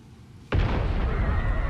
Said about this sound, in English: What was that booming noise?